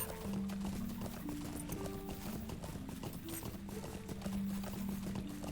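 Horse hooves clip-clop steadily as a mount runs through the Lord of the Rings Online video game, a quick repeating gallop rhythm under a sustained tonal music bed.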